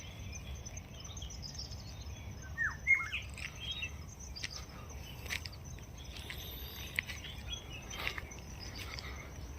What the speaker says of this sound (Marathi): ऐकला का पक्ष्यांचा आवाज.